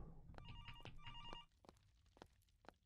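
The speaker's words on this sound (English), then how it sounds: "Oh, phone call." An old-style telephone bell rings in rapid bursts inside a haunted pizzeria video game, then stops, leaving soft clicks and thumps; the ring is quiet.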